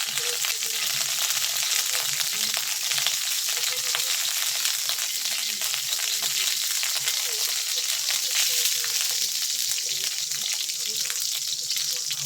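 Garlic and onion sautéing in a hot pan while making ginisang patola give a loud, steady crackling sizzle with constant fine spitting pops, with occasional faint stirring underneath.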